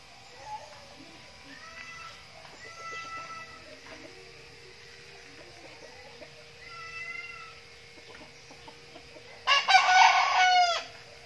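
Gamecocks crow several times at moderate distance, with a louder, close crow near the end, amid clucking and faint background sounds, in a rural Philippine setting.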